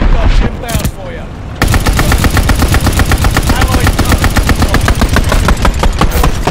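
Sustained, rapid MG42 machine-gun fire in a World War II video game, a loud continuous buzzing burst after a brief opening shot and pause, running for several seconds without letup.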